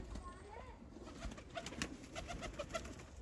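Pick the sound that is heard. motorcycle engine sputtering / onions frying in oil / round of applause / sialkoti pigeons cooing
sialkoti pigeons cooing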